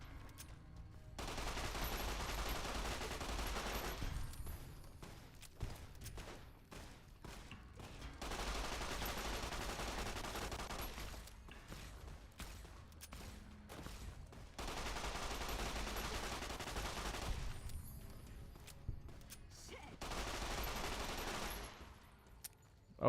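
Fallout: New Vegas gunfire in the wasteland: several long stretches of sustained rapid shooting, loud and dense, separated by short quieter gaps with scattered single shots, and no talking.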